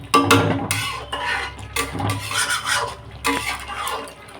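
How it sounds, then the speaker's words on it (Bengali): A spoon scrapes and clinks against a pan as fish pieces are stirred into masala, with irregular close knocks and rubbing sounds in quick bursts. "এবারটা খুব সুন্দরভাবে এই মশলার সাথে কষাতে হবে"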